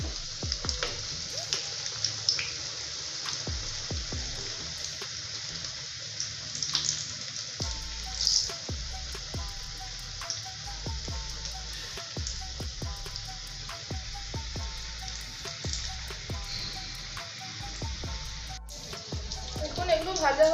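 Vegetable patties frying in hot oil give a continuous, close hiss and crackle that holds steady throughout, with small pops and faint kitchen sounds mixed in.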